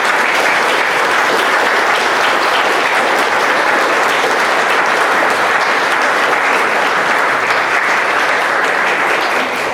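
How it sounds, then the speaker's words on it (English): Sustained, loud, dense applause from the audience at a music festival for middle school music students runs steadily through the whole stretch with no pauses and no talk. "Let's give a round of applause to all the middle school students"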